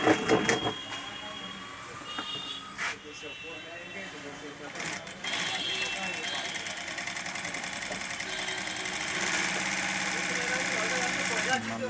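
A DAISEN DS W1 high-speed industrial sewing machine starts up and runs with a fast, steady mechanical chatter, while people talk nearby over it.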